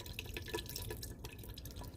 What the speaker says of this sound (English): The water goes into the sink.